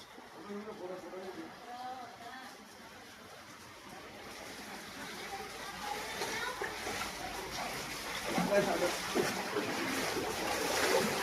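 Floodwater runs through a flooded grocery shop and homes, a broad steady rushing wash with outdoor wind noise, rising louder toward the end.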